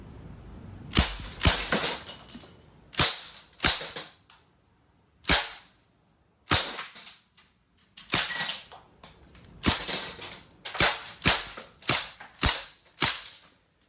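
A Crosman A4-P airgun fires in semi-auto mode, making a steady run of sharp, snappy pops, each a single crisp shot with short pauses in between. The shots are close and loud and stand alone without talk.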